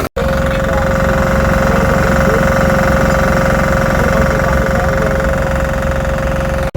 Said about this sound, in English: That generator is there to give it the electricity for the arc welder.